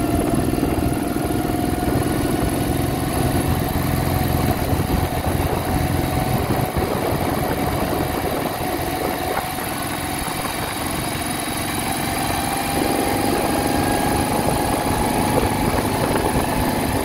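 A 1968 Moto Guzzi V7 700 motorcycle, freshly fitted with sleeved cylinders, drones steadily while being ridden, its engine rumble constant and loud throughout with wind and road noise layered on top.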